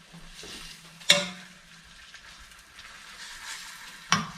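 Chicken breasts frying in olive oil in a pan, a steady soft sizzle with two sharp clatters as the pieces are stirred and turned, close and alone.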